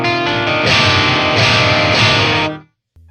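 An electric guitar played through an amplifier near the edge of breakup gives a loud crunchy overdriven tone, sustained chords ringing for about two and a half seconds before cutting off abruptly into silence.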